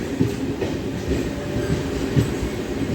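A DEMU train running on rails between Kacheguda and Raichur Junction, a steady loud rumble with recurring clickety-clack beats from the wheels, heard from inside the carriage and with no voices.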